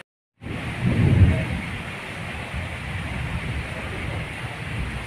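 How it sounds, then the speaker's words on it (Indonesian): Steady rain hisses continuously at Kepanjen railway station's departure shelter, with a low rumble and background murmur throughout. "Suasananya hujan."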